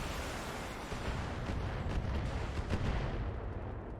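Weapons fire in the mech strategy game RogueTech: a dense, continuous roar of overlapping gunfire and artillery-like blasts, loud and steady throughout with a few sharper reports standing out near the end.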